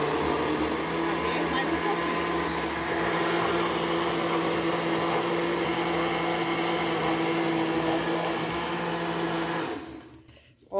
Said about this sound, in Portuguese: Aí bati, coei, voltei pro liquidificador.